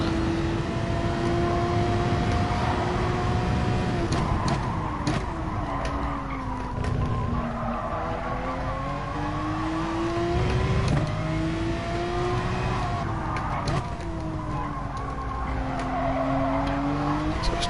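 A GT3 race car in a sim racing game drones steadily at high revs, pitch dipping and rising as it brakes gently and accelerates out of corners, with faint tyre scrub, loud and continuous throughout.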